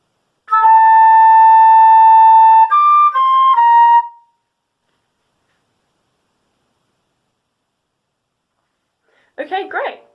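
Solo flute plays a short passage: a few clear, sustained notes, the first held long, then the line steps through shorter tones and stops. A brief spoken voice follows after several seconds of silence.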